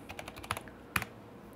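Close computer keyboard typing as a script is entered in vMix software, a brief flurry of light key clicks followed by a firmer tap and a pause, with no speech.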